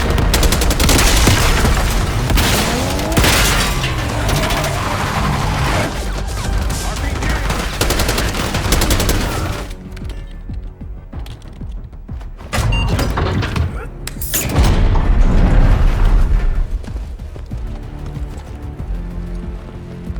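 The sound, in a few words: gunfire in a Call of Duty Black Ops 6 cutscene, from a video game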